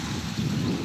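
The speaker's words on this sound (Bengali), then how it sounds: "হাওয়া দিচ্ছে দেখুন" Wind gusts across open village ground beside water and a road on a cloudy day, producing a brief, steady low rumble of buffeting against the microphone.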